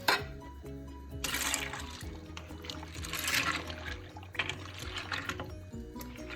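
Unsweetened soy milk is poured into a pot holding uncooked pasta and other ingredients, a steady sloshing, gurgling liquid stream running for several seconds, close and moderately loud.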